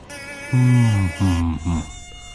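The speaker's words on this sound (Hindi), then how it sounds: "भेड़िया अपने पालतू मच्छर की सवारी करते हुए गांव में पहुंच जाता है" A giant pet mosquito in a cartoon buzzes loudly in three close, drawn-out bursts, a tonal whine that cuts off sharply between each burst, with no speech.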